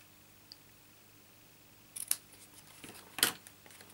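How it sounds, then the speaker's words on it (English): Scissors make a few crisp snips, trimming card for a butterfly papercraft project: quiet, close cuts clustered in two short bursts after a near-silent stretch. "Let's trim a little bit off there."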